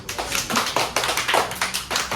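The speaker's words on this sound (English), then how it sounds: "Give her a clap, class." A classroom of pupils claps for a classmate in a quick burst of brisk, evenly spaced hand claps. The claps are close, moderately loud and about nine or ten strong beats in two seconds, with no talking over them.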